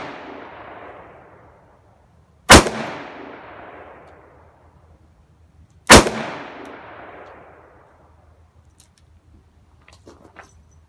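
Nickel Smith and Wesson Model 19-3 revolver fired outdoors in a residential area: two loud, sharp shots a few seconds apart, each followed by a long fading echo, then quiet.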